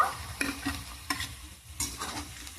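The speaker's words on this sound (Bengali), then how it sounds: "কাঁচা লঙ্কাগুলোকে একটু ভেজে নেব" Green chilies fry in a pan for veg chow mein, with a soft sizzle under a few sharp scrapes and stirs of a utensil against the pan.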